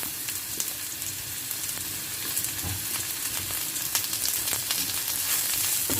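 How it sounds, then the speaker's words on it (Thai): Aromatics such as ginger sizzle hard in a hot wok for baked shrimp with glass noodles, a continuous loud frying hiss broken by scraping stir strokes, close up with no talk. "พัดตัวนี้ให้หอมก่อน"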